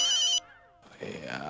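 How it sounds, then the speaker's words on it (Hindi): A telephone ringtone trills loudly for a moment in the TV comedy Taarak Mehta Ka Ooltah Chashmah, cuts off, then a voice begins speaking over faint background sound. "यार ये जेठालाल को भी ऐसे टाइम पे फोन करना होता है।"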